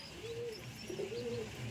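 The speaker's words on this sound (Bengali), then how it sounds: "এই দেখুন পায়রাটা দেখুন" A pigeon coos softly in a few low, rolling notes, close by, with faint chirps from other birds in the background.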